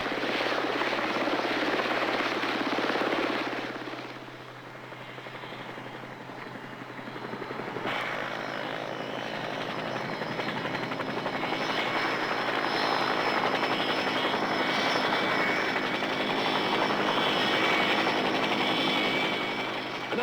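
A rescue helicopter hovers for a basket hoist, its rotor and engine giving a loud, continuous broadband roar that dips briefly before building back to a steady, close wash of noise.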